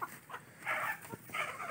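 Backyard chickens in a wet pen give a few short clucks, moderately close, in two bursts with quiet gaps between.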